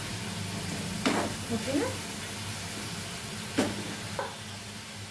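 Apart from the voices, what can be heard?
green chillies frying in a pan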